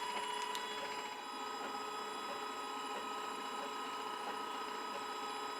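A CNC guitar pickup winder spins a bobbin and lays wire onto it, making a faint, steady mechanical whir with high tonal hums and small ticking sounds throughout.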